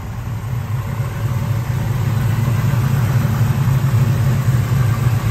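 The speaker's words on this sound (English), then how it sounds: "let's see the engine while it's running" A 1970 Camaro SS RS V8 idles smoothly and steadily, a loud, close, continuous low rumble without knocks or ticking and with no talking.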